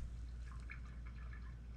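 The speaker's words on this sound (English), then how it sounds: "Why am I hearing dripping?" Water dripping inside a clogged drain pipe: faint, soft drips echoing in the pipe over a steady low hum, quiet and alone for under two seconds.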